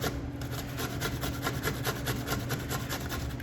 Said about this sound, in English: We're gonna use the grater